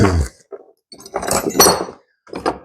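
Metal sockets and a small wrench clink and clatter together in several close, bright bursts separated by short silences, with no voices.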